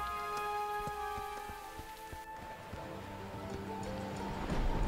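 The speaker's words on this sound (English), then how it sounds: "This rain is quickly getting worse." Rain falls steadily in the video game Dyscourse, a soft continuous patter with scattered drop taps and a faint musical hum, quiet and even, with no talking.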